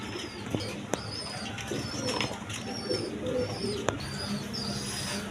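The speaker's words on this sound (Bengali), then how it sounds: "এখানে এক পেয়ার শৌখিন কবুতর আছে দেখেন একদম কোয়ালিটি সম্পন্ন কবুতর" Fancy pigeons kept as a breeding pair coo softly in repeated low phrases, with a few sharp clicks and knocks over faint background noise.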